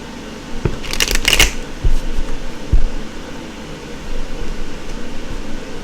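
Tarot cards being shuffled by hand, a quick riffling burst of crisp paper flutter in the first second and a half, then softer scattered card taps and handling over a steady low room hum.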